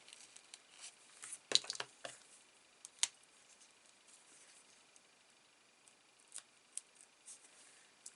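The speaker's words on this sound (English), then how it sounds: "let's cut some more dimensionals in half." Scissors snip through foam dimensionals, a few quiet, close crisp cuts and small clicks scattered across an otherwise near-silent stretch with no talk.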